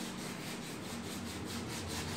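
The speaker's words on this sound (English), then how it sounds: "a bunch of Bondo on there, and kind of just sanding it off, cleaning it up" Sanding Bondo body filler off a car body during primer prep on a Rocket Bunny v2 Boss S14, a steady abrasive rubbing with a rhythmic back-and-forth pulse, close and continuous, no talking.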